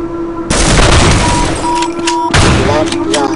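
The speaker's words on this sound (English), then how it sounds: "I just shotgun him." Shotgun blasts in the Half-Life mod C.A.G.E.D., a loud booming discharge with a rumbling tail, then a second heavy blast about two seconds later over game music, with some talk mixed in.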